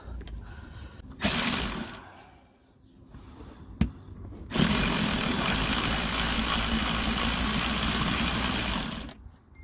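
A power tool whirs in bursts while driving the lower starter bolt on a 1997–2002 Honda Accord 3.0 V6, with a short burst early on and then a long, steady, loud run near the end.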